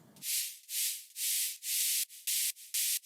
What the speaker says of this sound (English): And then we have some white noise.